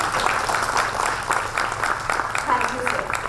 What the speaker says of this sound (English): I would request all of you to give a big applause for this opportunity.